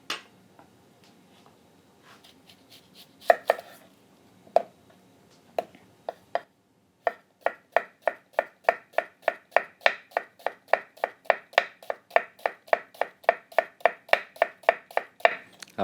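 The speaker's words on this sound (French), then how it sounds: "quand vous voyez le terme émincé sur un livre de cuisine, c'est donc coupé en fines lanières, comme je viens de vous montrer" A kitchen knife finely slices food on a cutting board in fine strips, a steady run of about twenty crisp, evenly spaced taps that speed up after a few scattered cuts, close and clear with no talk.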